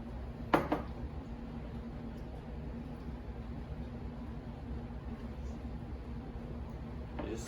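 Northern pike fillets dropping into a glass canning jar, with one brief clink near the start and another at the very end over quiet room noise.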